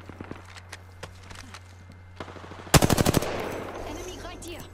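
Apex Legends gunfire: after soft footsteps and faint scattered sounds, a sudden loud automatic burst of about seven rapid shots rings out, followed by a lingering noisy tail.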